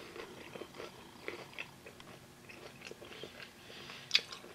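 Someone bites into crispy Gorton's mac and cheese shrimp bites, producing faint close-up crunching and chewing with one sharper crunch near the end.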